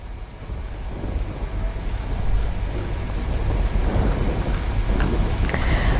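Heavy rain pours down in Narmada, Gujarat, a steady, dense roar that swells slightly after the first couple of seconds, with low rumbling underneath and no voices.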